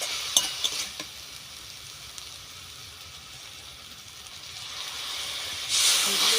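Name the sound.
little water added to sautéed khesari greens in hot pan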